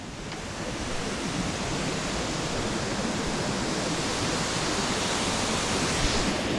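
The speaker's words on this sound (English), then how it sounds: "Yeah, it's a beautiful waterfall." Steady, dense rushing water pours continuously, a broad even roar of a waterfall on the Appalachian Trail heard from nearby, with no other sounds.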